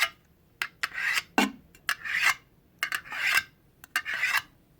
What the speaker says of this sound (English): Sharpening knives,